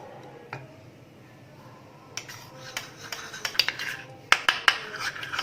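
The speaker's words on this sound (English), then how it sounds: "So, mix it along with the rice powder like a paste." A spoon mixes tomato juice and rice powder into a paste in a bowl, clinking and scraping against the sides. The strokes start sparse and grow into quicker, sharper taps toward the end.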